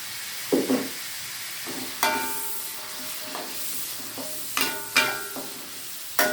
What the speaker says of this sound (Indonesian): Bawangnya dulu yang saya tumis.